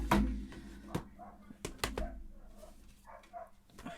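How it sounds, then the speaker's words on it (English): A neighbour's dogs bark at a distance, with a few faint, scattered yelps mixed among soft knocks and clatter close by in a quiet room. "My neighbor's dogs are barking like crazy."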